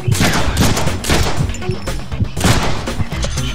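Gunfire in the Deadpool video game, a loud, dense fusillade of overlapping shots and thuds continuing throughout with game voices mixed in.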